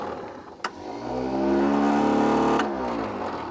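A bush recovery truck's starter motor whirs with a steady, rising mechanical tone that swells and holds, then eases, after a sharp click near the start. It spins without throwing out to engage.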